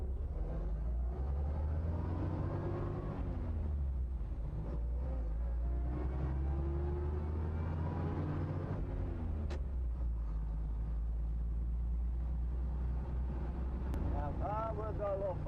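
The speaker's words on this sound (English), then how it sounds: "Take you riding a nice slow Mack truck." A 1939 Mack DE pickup truck drives slowly in low gear, its engine a loud, continuous low rumble with wind noise, while someone talks over it.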